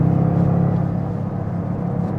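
A 2025 Toyota GR Corolla Premium hot hatchback with a turbocharged three-cylinder engine, heard from inside while driving: a steady low engine drone and rumble, fairly loud, easing slightly partway through, with no talking.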